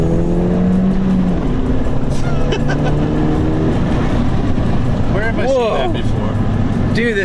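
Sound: Ford Fiesta ST driving fast

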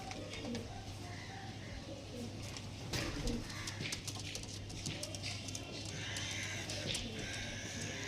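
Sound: pigeons

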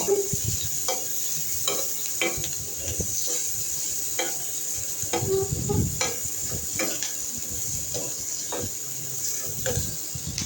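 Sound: onions frying in oil

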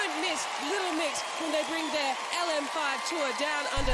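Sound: audience applause after a performance on The Voice Australia

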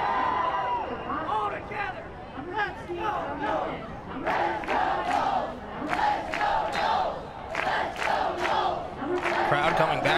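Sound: soccer crowd cheering in stadium

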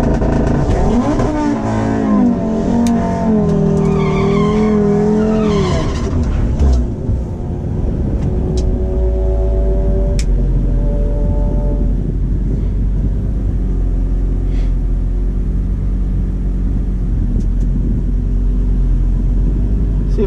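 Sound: Audi RS3 Stage 2 launching in a drag race

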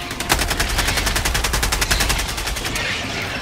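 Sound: mortar firing in the video game Helldivers 2

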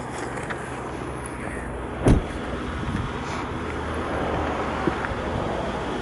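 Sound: Rolls-Royce Phantom engine idling

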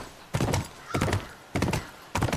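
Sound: horse hooves while riding horseback in The Last of Us video game

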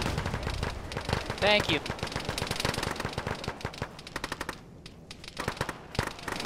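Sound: gunfire in a video game (ShackTac, Arma)

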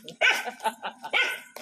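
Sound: dogs barking

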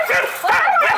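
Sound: dog barking

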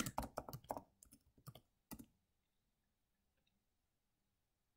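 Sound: typing on a computer keyboard

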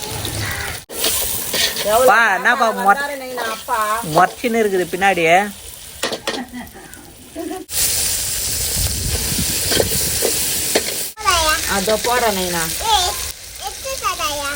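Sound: sautéing with rock salt in a pan

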